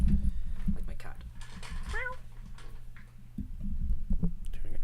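A domestic cat gives a short meow around the middle, heard over a steady low hum while people talk nearby.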